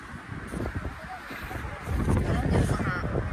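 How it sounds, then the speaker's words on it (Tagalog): Strong wind at Mapanuepe Lake, Zambales, buffets the microphone with low rumbling gusts, growing louder toward the end, with faint rustling in the background. "Grabe, lakas ng hangin."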